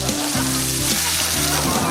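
Steady crackling sizzle of food frying, loud and continuous, with a low hum running underneath throughout.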